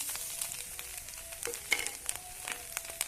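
Green chillies and tomato added to a pan of frying food, a soft low sizzle with scattered crackles and light stirring taps, quiet and without talk.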